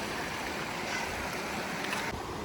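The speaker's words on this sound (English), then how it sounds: "All right, another water crossing." A mountain stream crossing on the Pacific Crest Trail near Selden Pass, heard as a steady, close rush of flowing water that fills the whole stretch without pause, with no voices.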